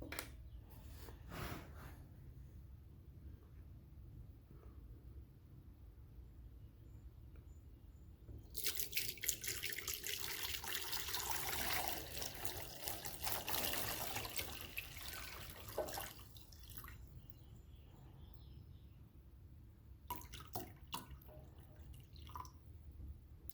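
Vinegar poured into a bowl over raw eggs, a gentle splashing pour that builds for several seconds and tapers off, with scattered drips and small handling clinks before and after.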